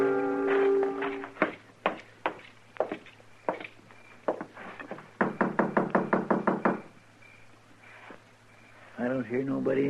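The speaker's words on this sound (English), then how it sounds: "I thought I heard somebody knock." A radio drama sound effect of knocking on a door, heard as several clusters of sharp, hollow raps, one of them a quick run of evenly spaced knocks, with voices talking between them.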